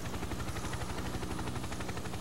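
A helicopter in the Toy Soldiers: Cold War video game keeps up a steady, throbbing rotor chop, dense and unbroken, with a busy rumble of game noise behind it.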